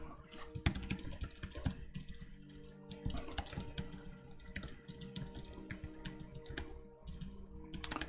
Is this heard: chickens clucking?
no